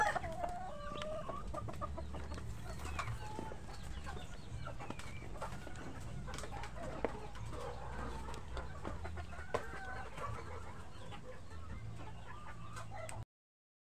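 Chickens at a backyard gamefowl farm cluck steadily and continuously, with occasional crowing mixed in over a low farmyard hum.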